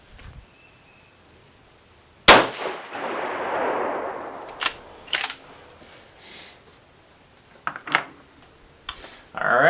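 A rifle fires a single shot from a loaded bipod at a target: one loud, sharp crack followed by a long rolling echo, then scattered quieter clicks and handling noises.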